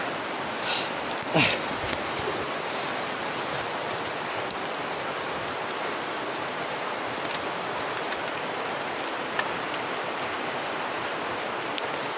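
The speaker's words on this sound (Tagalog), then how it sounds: "Lakas ng ulan, no?" A continuous, dense rush of heavy rain fills the whole stretch, broadband and even, with a few sharper drips near the start.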